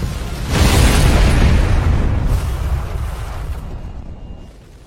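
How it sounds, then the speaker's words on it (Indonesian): A loud, deep explosion bursts in and roars, then its rumbling tail slowly fades away. "Ledakan itu akhirnya menyelamatkan Rhodes"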